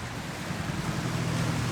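Waves break along the Sicilian coast at Capo d'Orlando in the province of Messina, a steady broadband wash of surf mixed with wind noise that stays even and moderately loud throughout with no voices.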